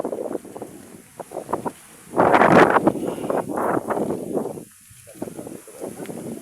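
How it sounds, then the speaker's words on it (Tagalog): Gusty wind at Daongan Beach in Dingalan, Aurora buffets the microphone in rising and falling rushes, loud and close, with a steady hiss underneath and no voices. "hangin ito. Hangin sa ano,"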